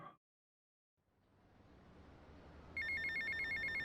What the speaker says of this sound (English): Now I have a phone call.